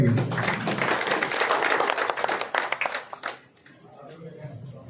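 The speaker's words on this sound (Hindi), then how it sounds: "सभी से प्रार्थना करता हूं कि तालियां बजा करके स्वागत करेंगे।" A crowd at a political campaign rally claps loudly to welcome a candidate. The thick applause thins into scattered claps after about three seconds, with voices murmuring underneath.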